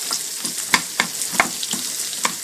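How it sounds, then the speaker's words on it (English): Onion frying in hot bacon grease, a constant close sizzle broken by sharp spoon taps and scrapes against the pan every half second or so, no talking. "Cook and fry this in your bacon grease for several minutes until it starts to get softened."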